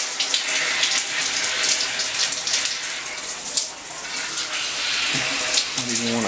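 Hot water running steadily from a tap after tankless water heater piping was modified, a continuous hissing splash that stays loud and even throughout, with brief faint voices near the end.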